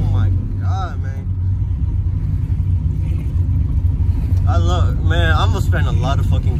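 A cammed 5.3 V8 with a new exhaust idles with a deep, steady, loud low rumble, while voices talk over the engine.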